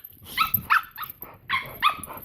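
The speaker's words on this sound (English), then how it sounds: "She doesn't bark at Miley, but she just barks at Max" A small dog, a puppy, gives a series of about six sharp, high yappy barks in two quick bursts, close and fairly loud, with no talking.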